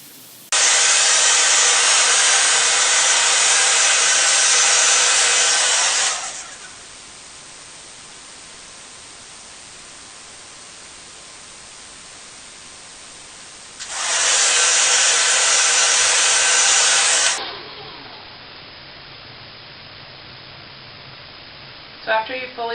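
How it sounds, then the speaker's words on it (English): A hair dryer blow-drying hair over a styling brush roars in two long, loud, steady blasts of about six and three seconds, with a quieter pause between them and a soft tail of rustling afterward. "So after you fully blow dry your first subsection, make sure the hair is very hot"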